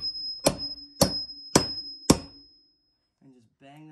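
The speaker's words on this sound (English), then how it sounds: "Now I also like to take my hammer" A hammer strikes a carpet runner down into a stair tread four times at an even pace, each blow a sharp close-up clang with a ringing tone, followed by a short silence and then a voice.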